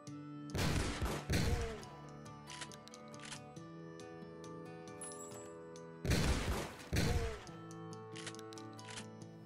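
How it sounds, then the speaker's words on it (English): Shotgun blasts from the video game Tablet Tyrant: Black Water, two loud booming shots close together, then a quieter stretch of game sounds and music, followed by another pair of heavy shots. "Switch over to the shotgun. Give it a try."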